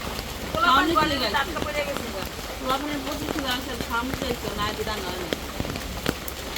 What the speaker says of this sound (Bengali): আর এত প্রচণ্ড পরিমাণে বৃষ্টি